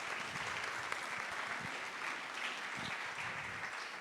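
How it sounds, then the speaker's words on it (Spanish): An audience at a talk on an environmental theme applauds the speaker Ellen, a steady, faint, distant wash of clapping lasting about four seconds without a break. "vamos a darle un aplauso a Ellen y agradecerle"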